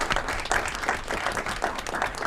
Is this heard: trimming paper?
no